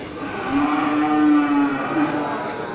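A cow at a cattle auction for breeding cows lets out one long, drawn-out moo, then a shorter second call, loud and close against the murmur of the sale.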